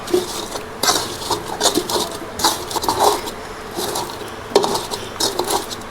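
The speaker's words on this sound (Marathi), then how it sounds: "आता तांब्यानं त्याला बारीक करून घ्यायचं आहे" Repeated metallic clanks and scraping of a metal pot crushing roasted chillies against a hot pan, in irregular bursts, close and fairly loud.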